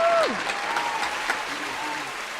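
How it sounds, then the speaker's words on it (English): A small group claps briefly in a casual podcast setting, with a whistle-like tone at the start and voices talking over the light, fading applause. "Okay, round of applause"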